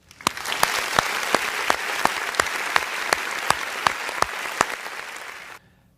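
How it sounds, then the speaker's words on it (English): A graduation audience applauds honored students with a steady, dense patter of clapping, punctuated by a few sharp, close individual claps at a regular beat, before it cuts off abruptly near the end. "Please give them a round of applause."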